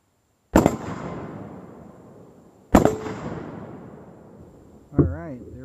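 Two loud, sharp rifle shots of 147 grain steel core .308 rounds fired at a Faralloy 500 steel plate, each cracking out and then rolling away in a long echo, followed by a burst of voices.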